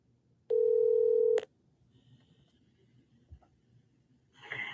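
A telephone being dialed, opening with a loud steady dial tone for about a second, then quieter faint keypad tones and clicks, ending with a brief burst of noise.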